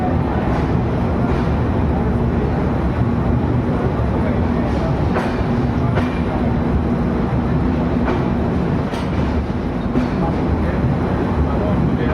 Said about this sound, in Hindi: ट्रेन डिपार्चर ले रही है जयपुर जंक्शन रेलवे स्टेशन से